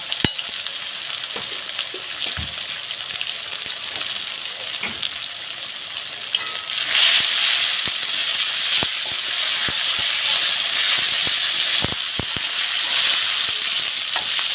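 Whole cumin seeds crackle and sizzle in hot oil for a liver and meat curry, a steady frying hiss that swells louder partway through, with occasional sharp clicks of a spoon against the pan.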